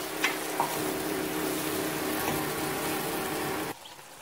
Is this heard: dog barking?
no